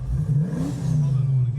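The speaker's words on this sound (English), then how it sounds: "What power, what raw energy just coming from that engine as it accelerates." A loud car engine revs hard and accelerates on the streets of Durban, its deep, steady roar rising slightly in pitch, close and dominant throughout with no speech.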